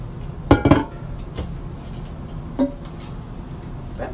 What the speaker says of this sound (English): So I'm just getting my pan out right now.